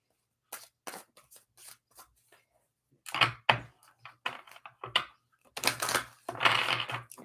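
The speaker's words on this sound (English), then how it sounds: "She said we're just going to shuffle a little bit now." A deck of tarot cards is shuffled in bursts, with soft riffling flutters and taps, quiet at first, then louder clustered shuffles in the second half.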